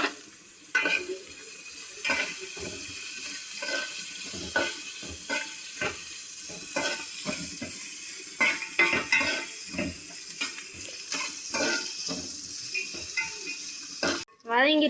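Onions frying with salt in a pan for Tamil-style mutton curry, a soft steady sizzle broken by repeated scraping strokes of a spoon against the metal, moderately close and fairly quiet.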